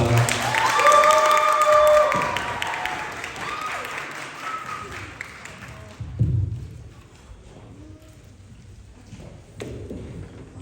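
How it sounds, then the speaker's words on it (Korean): An audience at a school literature day event claps to welcome a ninth-grade student reader, a burst of applause that peaks early and tapers off, followed by scattered thumps and a quiet room. "큰 박수로 맞이하겠습니다"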